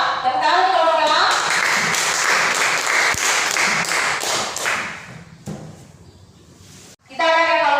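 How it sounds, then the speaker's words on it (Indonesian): A classroom of students claps for the Elang group, a burst of dense, lively applause with a few tapping thumps lasting several seconds before fading, while a teacher talks briefly at the start and end. "Tepuk tangan untuk kelompok elang."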